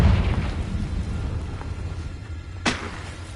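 A Confringo fire spell explodes in Hogwarts Legacy, a deep rumbling blast that rolls and fades over a few seconds, with a sharper pop near the end; no voices.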